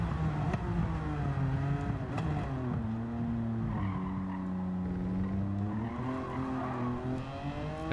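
A Nissan GT-R race car engine in Gran Turismo 7 roars steadily, its pitch rising and falling through gear changes and revs, with faint tire noise, no voices.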